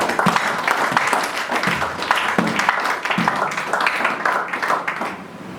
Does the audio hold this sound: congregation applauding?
yes